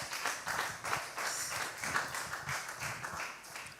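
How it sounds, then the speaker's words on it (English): Audience applause at a personal financial planning forum, a dense wash of clapping from a seated crowd sustained steadily throughout, fairly near and moderately loud. "let's give him a round of applause again"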